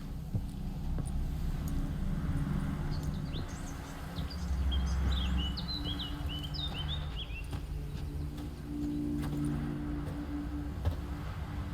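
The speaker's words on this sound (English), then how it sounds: "The birds singing, the bees buzzing." Small birds chirp and trill in short bursts inside The Witcher 3's outdoor game ambience, faint and somewhat distant over a low steady background hum, with no one talking.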